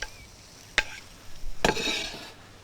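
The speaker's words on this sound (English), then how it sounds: "That's the right kind of sizzle, really." Potatoes hit hot duck fat in a pan and start a soft, steady sizzle, with two sharp clacks from the pan or utensil as they are stirred, close and fairly quiet, no voices.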